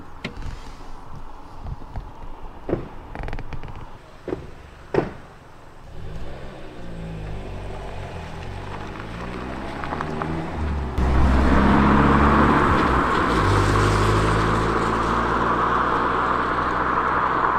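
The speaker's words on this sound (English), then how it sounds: "Car's just pulled up, and it sounds like they're walking around the van." A car pulls up beside a parked camper van at night, its engine idling nearby after a few soft knocks, then growing louder and rougher as it draws close.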